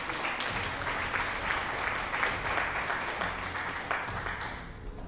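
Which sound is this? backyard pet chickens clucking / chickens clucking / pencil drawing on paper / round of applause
round of applause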